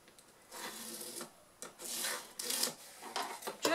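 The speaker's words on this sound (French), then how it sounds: "Et je trace donc ma ligne." Marking a line on fabric for sewing a multi-use pouch, heard as short, dry, close rubbing strokes in several separate bursts with quiet pauses between them.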